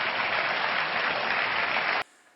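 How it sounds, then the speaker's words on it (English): A studio audience applauds David Letterman in a dense, steady wash of clapping that cuts off abruptly after about two seconds. "in that clip, we can actually hear the audience applauding for Letterman"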